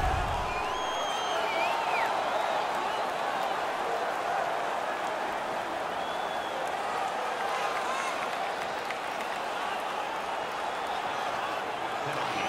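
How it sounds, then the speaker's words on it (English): A home crowd cheers and makes noise at an ice hockey game in NHL 17, a steady, loud wash of crowd roar with faint whistles over it, lasting throughout. "The home crowd is ecstatic."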